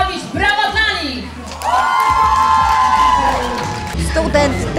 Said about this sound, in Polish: Wielkie oklaski dla tych wszystkich, którzy byli z nami i nam pomagali